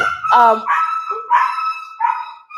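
Up close, a dog gives a short series of loud, tonal barks and yelps with brief gaps between them.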